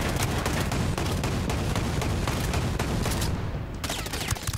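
Sustained gunfire from the Ghost Recon Breakpoint video game, rapid automatic shots blasting continuously at a machine, loud and dense throughout with no talking.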